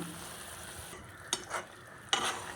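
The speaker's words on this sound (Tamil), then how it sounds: "சேர்த்து நல்லா இப்போ கிளறி விட்டுடலாம்." Basmati rice for plain kuska is stirred in a pot, giving a few soft scraping sweeps and two sharper clinks against the metal over a quiet background, with no talking.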